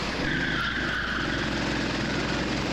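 A racing go-kart oversteers on a track, its tires scrubbing in a steady, loud skidding hiss over the engine's drone, recorded onboard and close for the whole stretch without a break.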